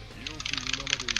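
Computer keyboard keys clattered rapidly in quick uneven bursts, close to the mic, heard during an online fighting-game tournament match with a voice talking over the top.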